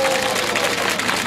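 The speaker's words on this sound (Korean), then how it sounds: "우리 선생님들 다시 한번 박수로 감사" An audience claps for teachers after their performance, a dense, even burst of applause filling the room from start to finish.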